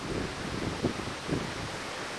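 Strong typhoon wind in South Korea, a steady broadband roar with gusty surges and buffeting against the microphone, continuous and loud with no voices.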